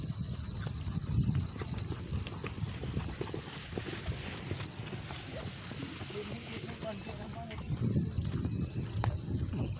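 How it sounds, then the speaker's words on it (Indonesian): Racehorses trotting during morning training for a traditional Gayo horse race event, with steady clip-clop hoofbeats under wind and outdoor background noise. "Ini ada beberapa kuda yang akan segera melakukan latihan di pagi yang sangat cerah ini"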